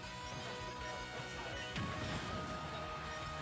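A kid's toy cash register crashes down with a bright, glassy shattering burst, brief and loud, over the steady background of a Super Smash Bros. Ultimate stream.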